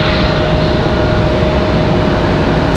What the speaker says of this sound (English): American Airlines, this A319.